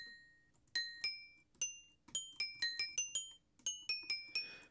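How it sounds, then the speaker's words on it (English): A glass cup sample played as notes in Ableton Sampler, producing a sequence of bright, bell-like pitched pings in an irregular melodic rhythm, clean and fairly quiet with ringing decays and no talk. "So here is our glass cup."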